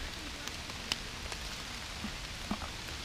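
Light rain falling in autumn woods, a steady soft patter of drops on leaves and ground, with a few sharper individual drips standing out close by.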